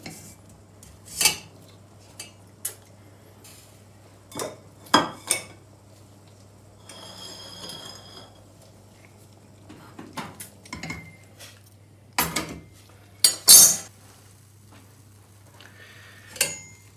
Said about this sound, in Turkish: Şimdi eriştelerimizi bir süzgecin içerisine alıyoruz.